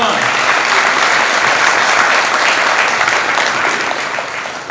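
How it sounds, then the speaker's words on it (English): A large audience at a county youth awards dinner gives a loud, sustained round of applause, a dense wash of clapping that holds steady and begins to taper near the end. "So let's have a round of applause, please."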